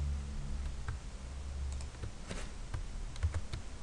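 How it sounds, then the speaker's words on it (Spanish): Typing on a computer keyboard during spreadsheet cell editing, with irregular close clicks and key taps scattered over a quiet low hum. "Mediante el teclado, y veis que es bastante sencillo también una vez que os acostumbráis a manipular las teclas"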